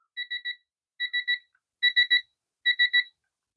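Four bursts of three quick high-pitched electronic low-battery warning beeps, evenly spaced in a clear repeating pattern.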